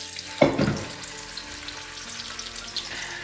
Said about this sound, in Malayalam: അപ്പം ഇനി നമുക്ക് മത്തി വറുക്കാം.